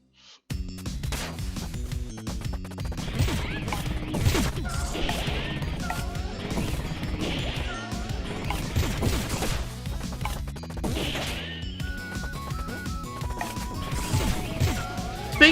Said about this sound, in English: Destroy nearly every beer bottle